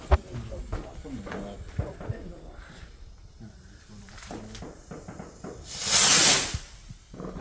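A Bonfire Night firework rocket launches with a loud, rising hiss lasting about a second, set against outdoor chatter and voices talking before it.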